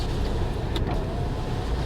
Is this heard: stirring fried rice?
no